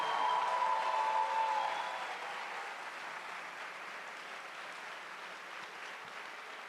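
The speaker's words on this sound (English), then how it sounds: "please give a huge round of applause for Patrick Dut" An audience at a closing ceremony applauds in a sustained, even wash of clapping that eases slightly in level after the first couple of seconds, with a brief tone at the start.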